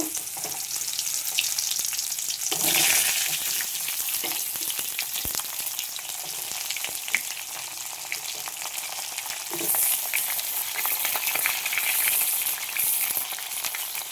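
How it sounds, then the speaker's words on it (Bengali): Pointed gourd (potol) pieces frying in white cooking oil give a continuous crackling sizzle, with louder, hissing surges near the start and again in the later part. "পটলগুলো এখন হালকা করে ভেজে নেব"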